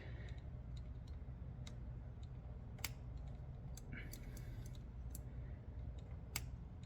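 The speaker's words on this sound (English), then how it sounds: "I'm not cutting all the way through the wire. I'm just going around it." A blade clicks and snips in scattered, sharp bursts as it scores around the insulation of a wire without cutting through, during a lower accent panel light install on a Polaris Slingshot, with a steady low hum underneath.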